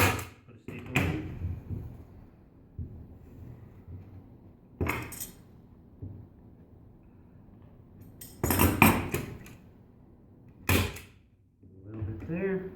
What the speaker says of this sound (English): I just fold it over, put a staple in